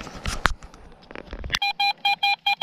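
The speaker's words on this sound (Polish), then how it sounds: "Sygnał 69, znaczy już na wierzchu widzę." A metal detector in the field gives a signal: a run of about six short, evenly spaced electronic beeps, loud and close, after a moment of rustling.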